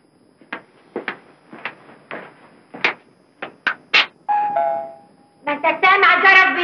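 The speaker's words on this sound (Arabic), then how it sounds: "سامع الجرس بيرن؟ خليه يرن." A doorbell rings with a steady chime in an Egyptian film scene, loud and close, right after a stretch of indoor voices and movement; more voices and chiming follow.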